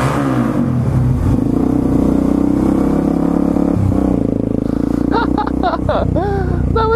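A supermoto motorcycle engine roars loudly inside an enclosed space, a rough, echoing idle and revving with clattering mechanical noise, ending in a few sharp higher-pitched rev bursts.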